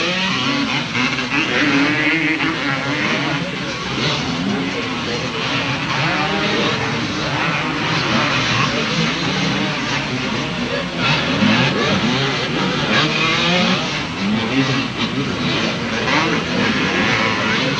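Honda Canada CR250 motocross bikes race on a dirt track, engines droning and revving loudly and continuously with crowd and commentary noise mixed in.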